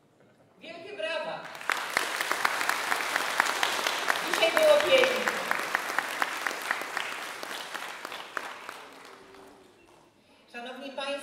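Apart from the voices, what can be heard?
applause for the music school ensemble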